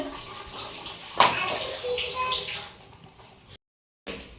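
A kitchen tap runs with a steady hissing rush and a sharp clatter near the start, then stops abruptly, with a voice mixed in.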